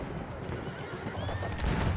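Horse neighing in the Battlefield 1 video game: a short, shrill, rising whinny that stands out over a dense, rumbling battlefield din.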